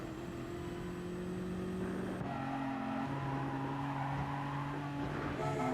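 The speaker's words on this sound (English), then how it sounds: "He's revving it more than me." Race cars in Gran Turismo Sport, an FIA Manufacturer Series online race, with several engines droning and revving at once, steady and loud, pitch rising and falling as they shift gears, with no voices.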